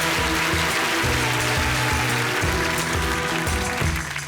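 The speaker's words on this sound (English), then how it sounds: "few people applauding" A comedy show's studio audience applauds steadily in a dense wash of clapping, with a rhythmic musical beat running beneath it throughout.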